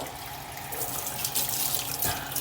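Cold water runs steadily from a kitchen tap as bone-in pheasant confit, coated in duck fat with rosemary, parsley and zest, is rinsed under it, a close, even splashing hiss.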